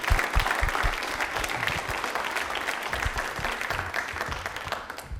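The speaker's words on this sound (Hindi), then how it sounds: "एक बार तालियां जोरदार हो जाए" On a televised general-knowledge quiz show, a studio audience breaks into vigorous, continuous clapping that stays loud and even throughout.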